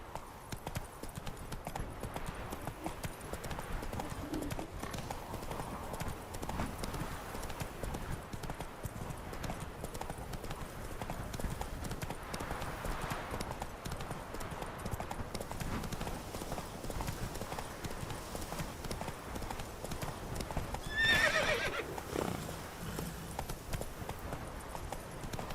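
Horse galloping in The Witcher 3: Wild Hunt on PS4 Pro, a fast, steady clip-clop of hooves continuing throughout over game ambience, with a brief louder whoosh near the end and some voice in the mix.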